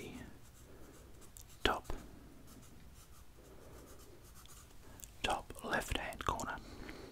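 A pen scratches steadily across a paper map of New Zealand while someone whispers softly; the strokes come in short bursts that grow livelier near the end.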